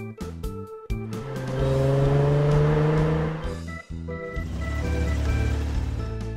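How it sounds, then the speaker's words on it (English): A race car in an animated children's cartoon roars through rising accelerating revs with a sustained whining pitch, a short break, and then a deep loud rumble as it speeds away. "Race car."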